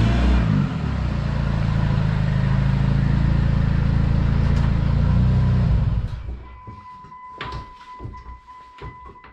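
A PT Cruiser rat rod pulling into a garage, its engine rumbling loud and steady for six seconds before cutting off, followed by scattered clicks and knocks.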